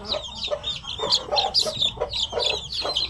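A mother hen and her fourteen newly hatched chicks clucking and peeping close by, with rhythmic low clucks interleaved with high chirps, continuous and fairly clear with no talking.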